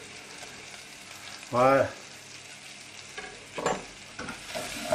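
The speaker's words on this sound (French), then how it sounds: "Donc on fait revenir les échalotes." Shallots sauté in a pan for a rustic tomato sauce, a steady quiet sizzle with occasional stirring scrapes, while a voice speaks briefly over it.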